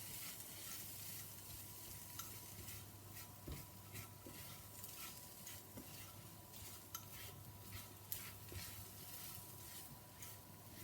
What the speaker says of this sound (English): And then we need to stir fry for a further 4 to 5 minutes.